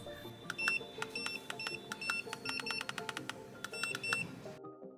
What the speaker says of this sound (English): Key beep volume, if you don't like it,